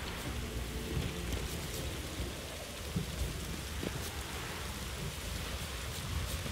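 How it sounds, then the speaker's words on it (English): Storm in The Witcher 3, steady rain hissing on surfaces with low thunder rumbling beneath, a dense, moderately quiet wash of weather with a few brief thuds. "The storm, damn it."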